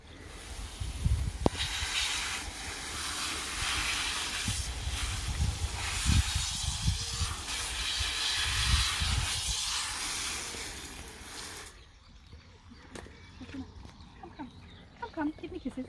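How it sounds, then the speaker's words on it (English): Water sprays in a steady hiss onto a horse's leg being treated for mallenders, continuous and close, then stops, leaving quieter background sounds and small noises. "So I rinse it out first of all"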